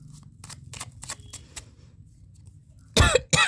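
Tarot cards are shuffled in a run of soft, quick riffling bursts, faint and close, followed by two louder, sharper bursts near the end.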